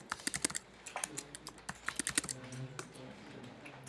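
A password is typed on a computer keyboard as a close run of quick, crisp key clicks in irregular bursts, with a faint background hum.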